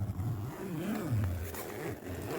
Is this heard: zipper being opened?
yes